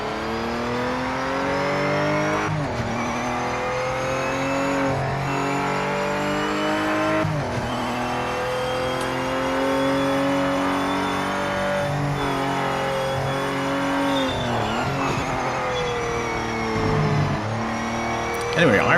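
Race car engine in the video game Project Motor Racing on PS5, droning and revving steadily with shifting pitch while tyres are warmed, a voice speaking over the motor throughout.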